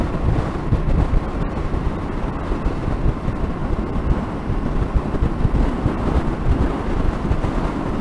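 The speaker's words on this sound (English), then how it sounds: "It is very, very windy up here." Strong wind buffets the rider on a Tenere 7 motorcycle in sunny, open upland Wales, a loud, continuous roar with gusty swells that runs steadily for the whole stretch.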